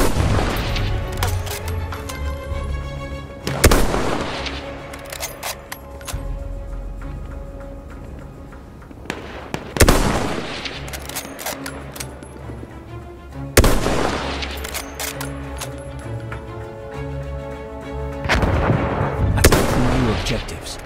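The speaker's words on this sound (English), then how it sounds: "Wait for the enemy artillery barrage to stop firing." An artillery barrage booms through a Battlefield 1 battle on PS4, with heavy blasts every few seconds, rattling gunfire and explosions between them, and game voices shouting now and then.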